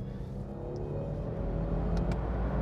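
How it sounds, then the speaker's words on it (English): A 2022 Lexus LX600 with a 10-speed automatic downshifts from fourth to second, a steady low engine rumble from inside the cabin that rises slightly toward the end. "This is a downshift from fourth to second here."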